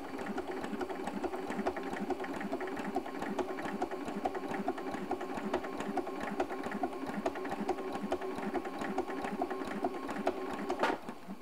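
A home sewing machine stitches with invisible thread in a steady, fast, even mechanical whir of needle strokes, close and continuous, with a brief click near the end.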